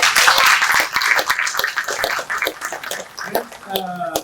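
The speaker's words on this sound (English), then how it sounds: "Let's give a big round of applause to Dr." An audience at a Rotary club inauguration gives a round of applause, close, loud clapping that thins toward the end while a voice begins speaking.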